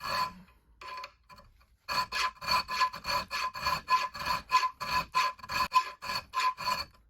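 Hand file rasping steadily back and forth in a channel cut into a steel hunting and camp knife blade, a run of about a dozen rhythmic strokes, close and fairly loud with no talk.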